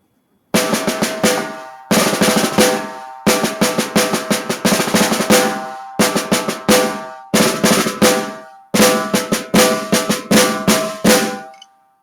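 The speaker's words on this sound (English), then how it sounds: "And that's going to be the snare drum." Snare drum played by a school band percussionist in short repeated phrases, crisp bursts of strokes separated by brief pauses, loud and close with no talking.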